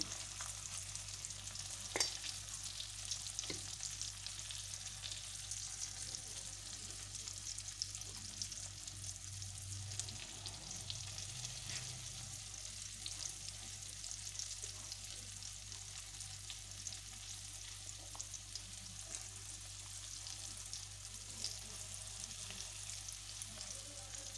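Banana stem and banana flower peel chips fry steadily in hot oil over a medium flame, a dense, even sizzle running throughout with a few soft stirring clinks.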